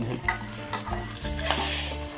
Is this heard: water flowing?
no